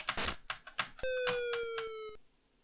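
Computer keys on a ZX Spectrum being hit at random during Street Fighter II: a quick flurry of clicky presses, then a sustained, buzzy electronic beep under a few more taps, ending in quiet.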